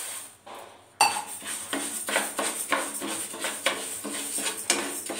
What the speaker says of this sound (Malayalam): ഞാൻ അതിലേക്ക് ഇട്ടിട്ട് വറുക്കുകയാണ്.